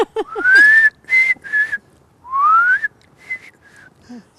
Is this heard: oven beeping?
no